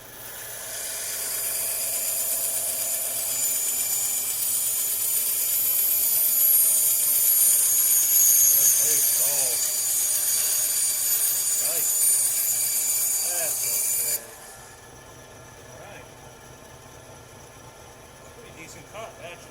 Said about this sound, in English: Let's take the handle off on the bandsaw, that little end part.